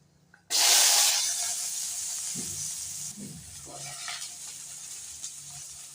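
Chopped onions drop into a hot pan with mustard seeds and burst into a loud, close hiss that gradually settles into a steady sizzle. A few low voice-like sounds come in briefly partway through.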